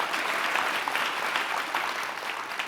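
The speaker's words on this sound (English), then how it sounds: "Yeah, let's clap for that." An audience at a talk on high-impact tutoring breaks into applause, dense and steady clapping from many hands at close range with no voices over it.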